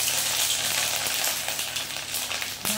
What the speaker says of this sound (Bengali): এবার দিয়ে দেব পেঁয়াজ বাটা, রসুন বাটা, আদা বাটা। পেঁয়াজটা আগে দিয়ে দিই